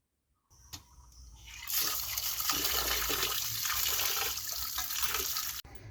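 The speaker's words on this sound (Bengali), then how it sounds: "এখানে দেখতে পাচ্ছ আমি চাল ধুতে চলে এসেছি" Rice being washed under a newly installed household water tap, with a clunk before the tap opens, then a loud continuous gush of running water splashing over the grains that stops abruptly near the end.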